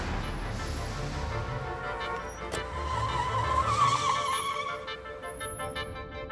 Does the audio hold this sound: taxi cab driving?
yes